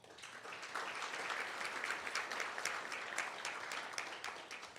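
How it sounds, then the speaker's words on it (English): A crowd at a county board meeting applauds steadily for several seconds, a dense wash of many hands clapping that holds at an even level. "give him a great big round of applause"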